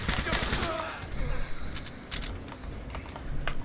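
Bursts of rapid gunfire crackle in Fallout 4, several quick volleys of shots spaced across a few seconds, fairly close and sharp.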